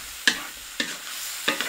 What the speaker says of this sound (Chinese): 炒香以后下入白菜帮，先把白菜帮炒一下